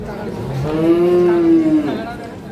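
A dairy cow at a rural cattle market in Ambari, Dinajpur, lets out one long, loud, steady moo that swells and fades, close by against a low murmur of market background.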